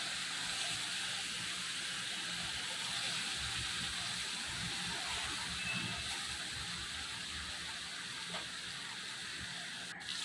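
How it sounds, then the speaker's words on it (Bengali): Katla fish fried in hot oil in a wok gives a steady, dense sizzle and hiss. The sound holds at an even level for the whole stretch and nobody speaks. "এখন প্রথমে মাছগুলো ভালো করে ভেজে নিচ্ছি"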